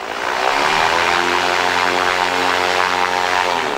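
A light aircraft's propeller engine drones steadily and loudly up close during a pre-flight power check, its pitch shifting slightly as power builds.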